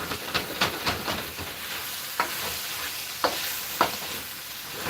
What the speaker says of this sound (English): We have this sauteing right here